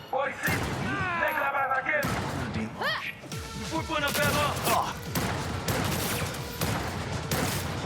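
Gunfire from the video game Cyberpunk 2077: Phantom Liberty comes in sharp bursts and crashes amid other game effects, heard alongside ongoing talk.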